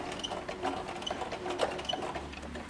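A sewing machine stitches hook and loop tape onto doll clothes, its needle running in a steady mechanical patter with faint ticks and clicks, close and continuous for a few seconds with no voices.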